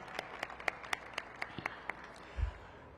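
Sparse clapping from a small audience at a mayoral event, about nine distinct claps in an even rhythm, faint and somewhat distant, ending with a dull low thump.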